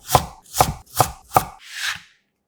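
A knife cuts a carrot on a cutting board into small pieces about 0.3 cm thick: four crisp, evenly spaced chops, then a softer scraping stroke, close and clear with no talking.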